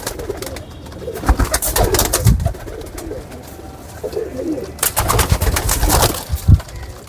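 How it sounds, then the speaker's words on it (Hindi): Pure Kamagar and Teddy breed pigeons in a backyard loft give low, rolling coos in two bursts, with scattered sharp rustles and wing or perch clicks between them, close by and moderately loud, with no talking. "कैसे शानदार पार्किंग के कबूतर हैं।"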